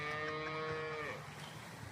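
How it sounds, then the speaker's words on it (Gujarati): A spotted local Banaskantha cow gives one drawn-out moo, nearby and moderately loud, the tone sliding down and fading after about a second into quiet outdoor background. "આ કાબરી ગાય છે"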